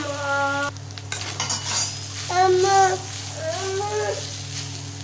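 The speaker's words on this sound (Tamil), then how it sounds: "இப்போ இது எல்லாத்தையும் சேர்த்துட்டு நல்லா கலந்து விட்டுக்கோங்க தேங்காய் வந்து கொஞ்சம் வதங்கி வரட்டும்" Grated coconut is stirred and sautéed in a pan, with scraping strokes over a soft, continuous sizzle and a steady background hum. Brief tonal, voice-like sounds rise and fall partway through.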